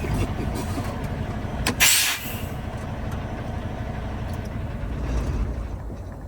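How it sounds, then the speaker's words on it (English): A truck engine runs steadily at idle with a low, even rumble throughout, broken by a brief hissing burst near the two-second mark, with no talk. "I'm going to shut the engine off"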